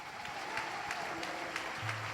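A church congregation claps during worship, faint steady applause heard from a distance with a low hum beneath it.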